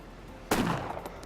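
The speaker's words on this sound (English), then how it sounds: "I think I was just testing out the range of the shotgun." A single shotgun blast in the DayZ zombie survival game, fired at a zombie to test the weapon's range: a sudden loud boom with a short decaying tail, preceded by quiet ambience.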